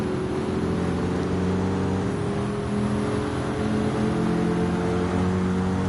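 Race car engine in a racing video game powering out of a very slow corner in first and second gear, a steady loud droning roar with layered engine harmonics holding throughout, no voices.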